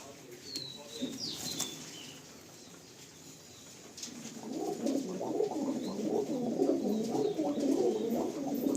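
Pigeons in a busy loft near Airport Gate 1 coo in overlapping low bursts with brief wing flaps and light rustling. The birds start softly and swell into a thick, continuous chorus, and no one speaks.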